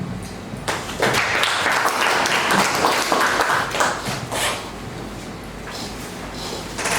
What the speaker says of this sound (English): put another round of applause for Professor Chudi for taking us to SOS 701